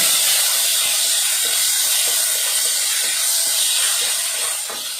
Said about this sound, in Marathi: आता यामध्ये टोमॅटो ऍड करायचा आहे. व्यवस्थित परतायचं आहे.